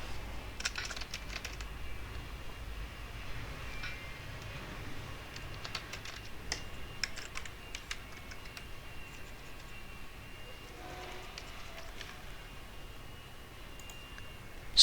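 Computer mouse clicks while inserting records in a Laravel database tutorial, giving scattered light ticks over a quiet room hum, soft and close, with no talk.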